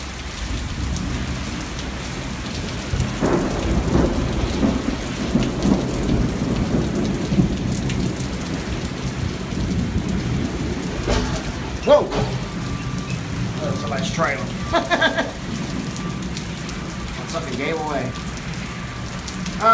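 A severe midday thunderstorm in Indianapolis brings steady heavy rain with rolling rumbles of thunder and a sharper crack near the middle, while a person talks intermittently under the downpour.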